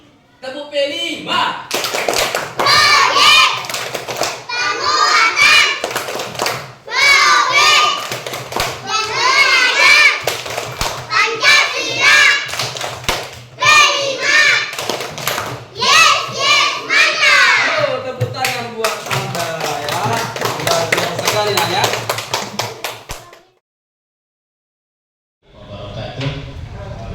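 Children chant a rhythmic classroom P5 clapping routine together, their voices paired with bursts of hand claps and table taps in repeated phrases, close and lively, ending in a brief silence before more noise.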